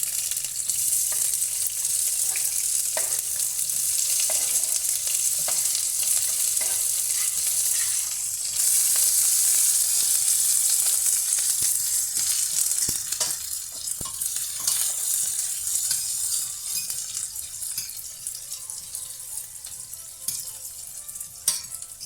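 Saltfish frying in oil in a pot gives a loud, steady hiss and crackle that lasts throughout with little change, with no one talking.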